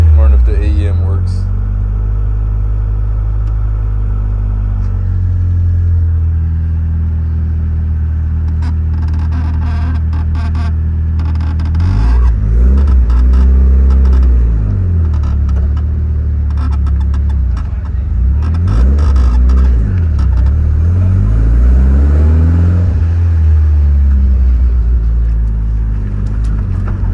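A Nissan S14 with an AEM unit runs steadily close by, its engine rumbling loud and low with a few rising and falling revs over the constant drone.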